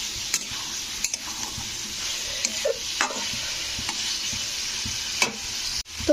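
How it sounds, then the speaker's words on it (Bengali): Ridge gourd and potato pieces stir-fry with spices in a pan, giving a steady sizzle with periodic spoon scrapes and clinks against the metal. There is no talking. "তো এবারে দেখো ঝিঙে আর আলুটাকে এর মধ্যে দিয়ে কষে নিতে হবে। এই মশলার সঙ্গে ভালো করে কষে নিতে হবে।"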